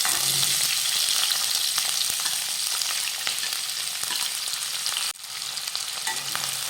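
Four medium onions, sliced lengthwise, sautéing in a pan for kaju masala: a loud, steady sizzle with faint stirring clicks, briefly dipping near the end before the frying hiss resumes.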